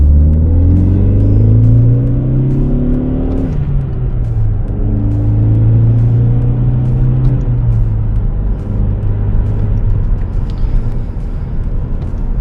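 A Ford Focus ST engine idles down after a drive: a steady, close, low rumble whose pitch slowly sinks as the revs settle, continuous throughout with no talking.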